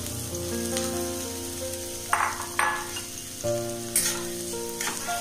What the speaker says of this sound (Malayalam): വെളിച്ചെണ്ണ ഒഴിച്ചു ചൂടായിട്ടുണ്ട്. ഇനി ഒരു സവാള ചെറുതായി അരിഞ്ഞത് ഇടാം.